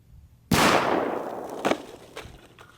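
A single loud .223 rifle shot fires a Nosler 40 grain Ballistic Tip bullet into ballistic gel, a sharp close crack with a long ringing decay and a few fainter thuds after.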